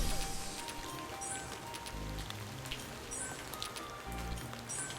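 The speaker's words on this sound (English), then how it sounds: "clicky clack, rain noises" Steady rain patters on a surface, a soft continuous hiss with scattered drops and light clicky taps, faint and even throughout with low rumbles underneath.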